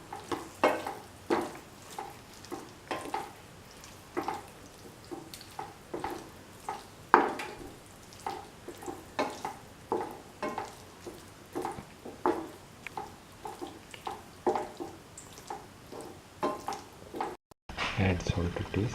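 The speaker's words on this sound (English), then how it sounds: "Mix the gobi nicely into the mixture so that it is well incorporated into the gobi." Cauliflower pieces being stirred into a thick sauce mixture in a pan, a regular rhythm of soft wet scraping and clinking strokes, repeated steadily throughout.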